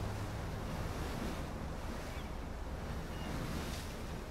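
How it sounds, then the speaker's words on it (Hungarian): Strong storm wind in the Life is Strange video game, a dense continuous roar of gusting wind with a surf-like rushing texture, steady and loud with no speech. "Leviszi a kislányt a szél."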